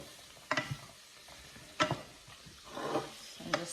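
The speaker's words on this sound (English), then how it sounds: "I'm just sauteing this around" Vegetables with celery or sweet potato sautéed in a pan for soup: a few soft stirring scrapes and light sizzling at intervals, close and fairly quiet, with no talk.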